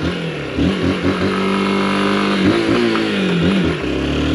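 A Honda XRE motorcycle engine while riding, a steady close mid-pitched drone with repeated rising and falling revs as the throttle is worked, plus wind rush, no talking.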